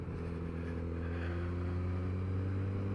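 A Kawasaki Z900RS motorcycle engine hums at steady low revs in third gear, a close, even drone with no voices over it.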